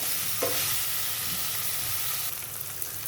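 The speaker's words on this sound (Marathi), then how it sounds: "यामध्ये आता आपण हे पनीर घालून फ्राय करणार आहोत" Paneer cubes fry in a pan with a steady, dense sizzle throughout, close and even, with faint stirring scrapes mixed in and no voices.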